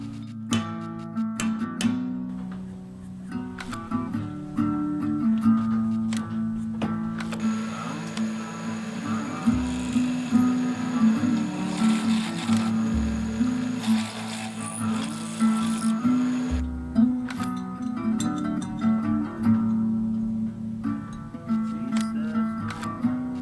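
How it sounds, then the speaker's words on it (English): A hand rivet nut tool with a 1/4 inch mandrel crimps a 1/4 inch rivet nut, giving repeated metallic clicks, ratcheting and rattling that come close and fairly loud in uneven bursts for the whole stretch. "First attempt on using this rivet nut tool. I got a 1/4 inch mandrel on here, got the 1/4 inch rivet nut."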